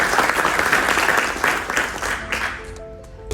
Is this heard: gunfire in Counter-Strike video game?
no